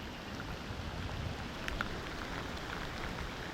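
Heavy monsoon rain in Konkan, Ratnagiri, pours steadily in a dense, even hiss on surfaces near a flooded main road, with no voices over it.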